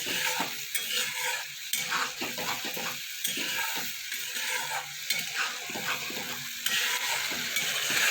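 Spice paste (masala) for vegetarian potol posinda, the stuffed pointed-gourd dish, frying and being stirred in a pan with a splash of water, giving a steady sizzle broken by repeated scraping strokes of the spoon, close and continuous with no talk.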